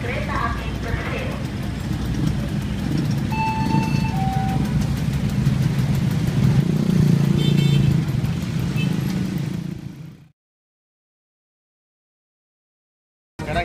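Odong-odong street ride vehicle moving through traffic in Medan, a steady rumbling engine and road noise with faint beeps, fairly close and continuous, then cutting to silence near the end.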